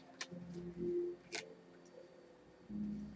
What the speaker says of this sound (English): These are new cards, so they kind of stick in the shuffle.